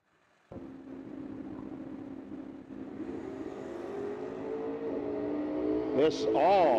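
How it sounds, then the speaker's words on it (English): At a no-delay drag racing event, a 1973 Camaro and a yellow Nova launch with a sudden engine roar that keeps building in pitch and loudness, with a commentator's voice over it. "Stedman dialed in 620, Union Health side, 73 Camaro"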